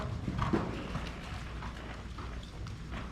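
A horse trots in a steady posting rhythm over ground poles during a riding clinic, with soft, even hoofbeats under outdoor background noise.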